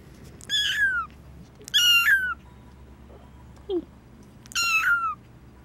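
A small black kitten meows four times, three clear high drawn-out cries and a short softer one, close and alone over a quiet background.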